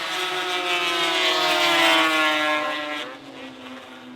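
Racing snowmobiles scream down the long front straightaway of a fast half-mile track at the Canadian Power Toboggan Championships, a loud sustained high-pitched engine whine that rises in pitch, peaks, then fades as the machines pass and pull away.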